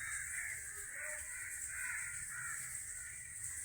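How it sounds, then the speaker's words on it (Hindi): Crows caw in the evening, a steady chorus of overlapping calls heard faintly from a distance. "तभी तो ये पंछी कौतूहल करते हैं शाम को जाते हुए"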